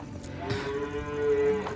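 Cows mooing on a dairy farm, one long, steady low-pitched moo running through most of the clip, close and fairly loud with no talking.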